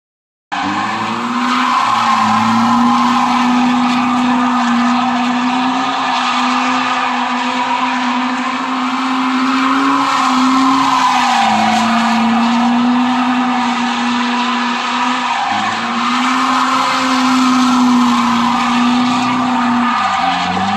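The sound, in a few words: Volvo car drifting with tire squeal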